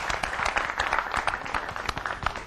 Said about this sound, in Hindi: एक बार तालियों से उनका स्वागत करें।